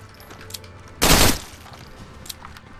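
Gunfire in the video game State of Decay: Lifeline: a single loud, broad burst of shooting lasting about a third of a second, standing out over a quieter game soundscape with faint clicks.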